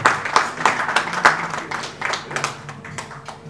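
Audience applause at an evening event, a dense burst of many hands clapping with sharp individual slaps, loud at first and then gradually thinning out.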